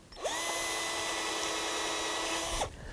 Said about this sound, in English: we could even drill a hole